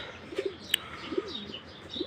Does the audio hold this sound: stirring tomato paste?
no